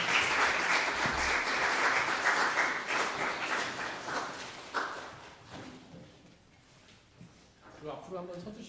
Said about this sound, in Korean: 우리 늦게 오셨으니까 뜨거운 박수로 한번 모셔볼까요?